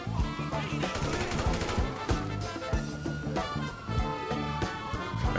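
AK rifle fire in GTA 5 Online comes as dense rapid shots, loud and continuous over a busy game soundscape, with repeated bursts throughout and little speech.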